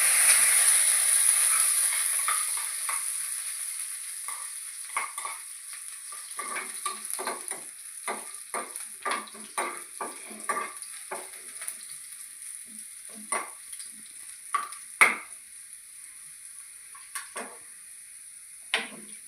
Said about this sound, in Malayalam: കറിവേപ്പില കൂടെ ഇട്ട് കൊടുക്കാം